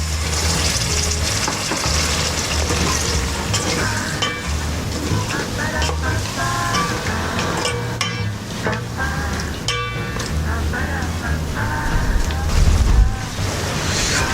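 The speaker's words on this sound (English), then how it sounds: "our meat has started boiling." A steady, dense bubbling and sizzling of beef in broth at a rolling boil in a pot for Swahili pilau, continuous throughout, with occasional clinks and stirring noises.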